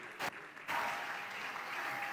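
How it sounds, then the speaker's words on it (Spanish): An audience at a sports gala in Béjar claps, starting with a few scattered claps and swelling into sustained, moderately distant applause that fills the room. "Fuerte aplauso, por favor, para el recuerdo de Alberto Hernández Maillo."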